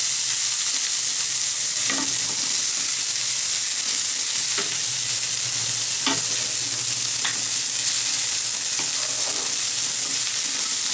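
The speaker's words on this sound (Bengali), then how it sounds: "এবার আমি পেঁয়াজটা দিয়ে দেব।" Onion sizzles loudly in hot oil in a pan, a constant bright hiss broken by several short scraping knocks of stirring.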